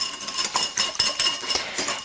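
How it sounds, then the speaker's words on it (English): A whisk clinks rapidly and irregularly against a bowl while mixing a beef jerky marinade of liquid smoke and onion powder, giving close, bright metallic taps with no talking. "we're gonna stir this together with a whisk"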